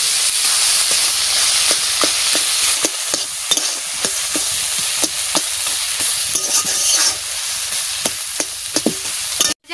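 Prawns fry loudly in a pan under a dense, constant sizzle, with rapid rhythmic scraping taps from stirring throughout, close and unbroken until an abrupt stop at the end.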